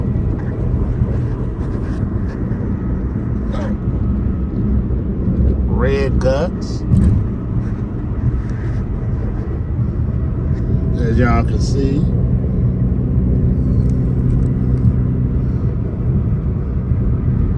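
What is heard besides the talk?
car driving on a freeway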